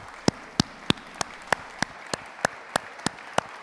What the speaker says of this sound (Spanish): Un aplauso a Jesús, hermanos